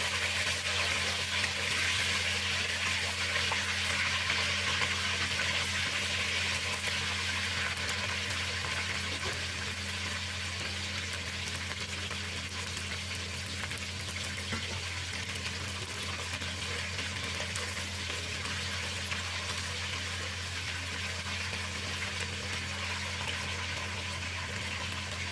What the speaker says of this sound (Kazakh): тек сырты жаңағы майға қуырылса жеткілікті